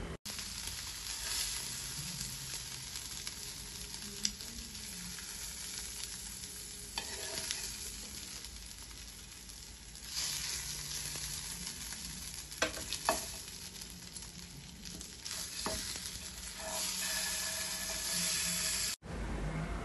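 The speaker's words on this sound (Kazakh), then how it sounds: "Кейін қалған балықты кішкене май құйып, қыздырып, дәл осылай қызарғанша қуырып алатын боламын." Pollock pieces fry in a little hot oil, producing a soft, steady sizzle with faint crackles and occasional louder pops, fairly quiet and continuous throughout.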